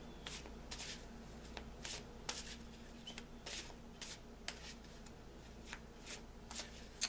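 Cards riffle and slap together in a series of quick shuffles, soft and close, with brief pauses between bursts.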